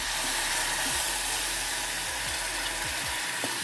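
Water is poured into cooked spice masala in a hot pan for a patodi rassa curry, giving a loud, steady, broad hiss that holds without a break, with faint clinks underneath.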